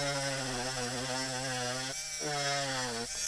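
Cordless Topshak TS-MG1 mini rotary tool engraving with a diamond bit, giving a steady high whine that dips in pitch twice under load, close and loud with no speech.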